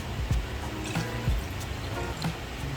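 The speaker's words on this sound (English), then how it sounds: "you're going to pour some water into it." Water is poured into a glass up close, giving a steady trickling, gurgling flow with small splashes that lasts a few seconds, with no talking.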